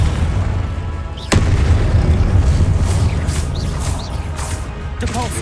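Confringo fire blast spell in Hogwarts Legacy, a sharp sudden explosive crack followed by a rumbling, crackling tail, with smaller bursts and whooshing effects later in the clip.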